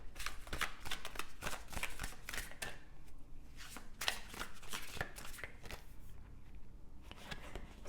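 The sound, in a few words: shuffling tarot cards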